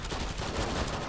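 Rapid gunfire in the co-op video game Killing Floor 2, a brief, dense burst of rattling shots at moderate loudness.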